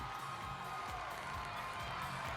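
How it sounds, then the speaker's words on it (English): Excited crowd noise fills the arena at a Level 6 senior large cheerleading semifinal as Cheer Athletics Panthers take the floor, a dense steady roar of cheering and shouts with no pauses. "The crowd is excited."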